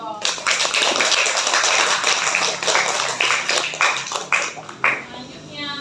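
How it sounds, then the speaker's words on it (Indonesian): A small group in a school classroom claps during a teachers' coaching and supervision session, producing a short burst of scattered, uneven hand claps with voices talking underneath and thinning out toward the end. "Kasih tepuk tangan dong"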